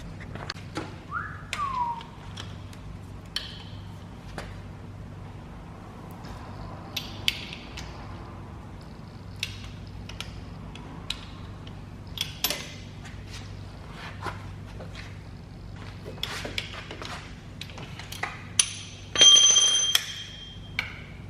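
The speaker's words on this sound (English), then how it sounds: "Using a breaker bar." Bolts on a 34-year-old boat motor's hydraulic case are loosened with a breaker bar: scattered sharp metallic clicks, ticks and knocks, with a brief creak or squeal early on, all fairly faint over a low steady hum.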